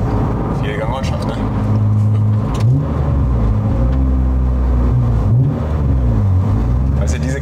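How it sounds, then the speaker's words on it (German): A six-cylinder car engine revs hard with sharp, repeated throttle blips, loud and close, its pitch sweeping up and down over a steady engine rumble while people talk over it. "Also diese Gasstöße sind so geil irgendwie, ne?"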